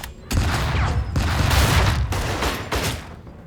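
A big explosion in the tactical video game Tastee: Lethal Tactics, sounding as a loud, sustained roar of blasts and gunfire-like crackle lasting several seconds, with repeated surges and no talking.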